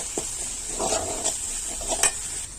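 A spoon scrapes and clinks in a pan of onion and ginger-garlic paste over a faint, steady sizzle of frying, with a few sharp metallic taps.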